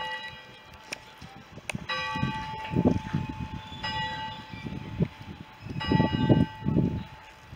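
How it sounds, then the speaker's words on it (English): Bells of St Mary's church in Oare ringing with sustained, overlapping tones struck repeatedly, resonant and fairly near, accompanied by low thumping clanks between strikes. "That's the bells of St Mary's, Lorna Doone."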